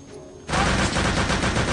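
Rapid automatic gunfire in the PC shooter Return to Castle Wolfenstein, a dense sustained burst that starts abruptly after a brief quieter moment and stays loud to the end.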